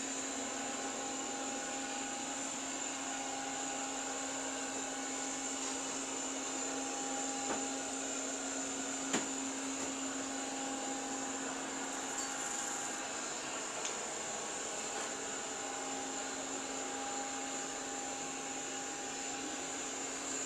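A Eufy Robovac 15T robot vacuum cleaner runs with a constant steady whine and motor hum, even and unbroken at moderate level, with a couple of faint clicks.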